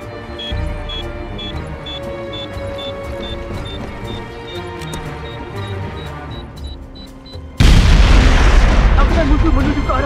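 Game sound effects with beeping tones build up, then a sudden loud grenade explosion booms and rumbles on to the end, in SOCOM 4.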